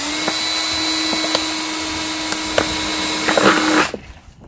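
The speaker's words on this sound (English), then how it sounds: "So I'm gonna drill a hole right here at the bottom." A power drill with a bit bores a hole into the bottom of a plastic water bottle, a steady close motor whine with a few brief knocks before it cuts off abruptly near the end.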